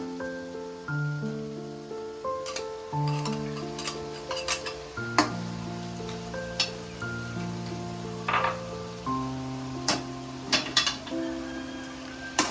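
Ground raw paste for vegetable kurma sautéing in oil in a pan, with faint sizzling, scattered ticks and spoon-against-pan taps beneath quiet background music, no speech.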